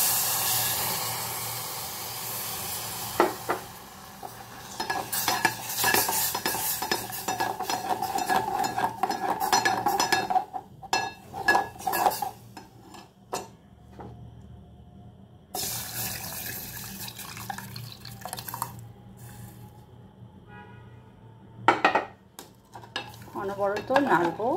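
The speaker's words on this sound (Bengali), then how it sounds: "অনবরত নাড়ব।" Milk being stirred continuously in a pot while making shahi tea, with soft scraping and liquid swishing, steady and close, interrupted by brief pauses and a few louder clinks; no talking.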